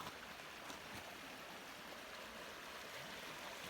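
The North Fork River flows past a cabin in a steady, broadband rush of water with no speech. It is faint and constant throughout.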